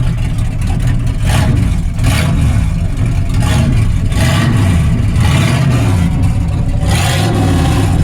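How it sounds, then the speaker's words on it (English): A Ford engine fitted with a straight pipe exhaust revs hard and close by, a loud, raw, continuous roar with rising and falling surges, and no talk over it. "Give it a short rev."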